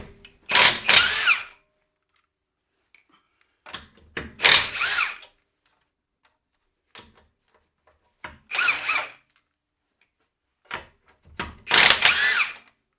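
A Milwaukee cordless impact wrench fitted with a 21 mm socket, set to its 1,600 ft-lb third setting, fires four short, loud bursts of whirring and hammering, separated by near-silent pauses with faint clicks.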